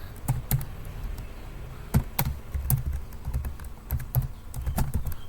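Rapid keystrokes on a computer keyboard while entering commands in a terminal, a steady run of close, crisp taps with occasional heavier key hits, no talking.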